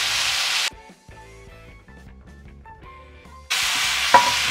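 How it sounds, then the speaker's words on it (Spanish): Chicken returned to a pan of al dente carrot, zucchini, onion and bell pepper for chicken curry sizzles loudly in two bursts, with a quieter stretch of music between them. "añadimos de nuevo el pollo"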